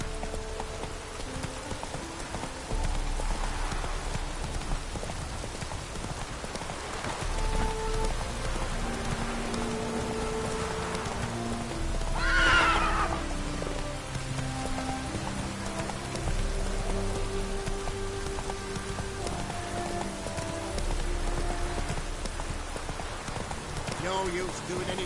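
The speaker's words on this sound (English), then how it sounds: "No use doing any work in this rain." Steady rain patters on surfaces in The Witcher 3 video game, a continuous hiss with occasional hoof clip-clops and brief voices partway through.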